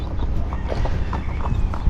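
A ridden horse walks along a trail, its hooves landing in a soft, regular clip-clop rhythm close by over a steady outdoor background.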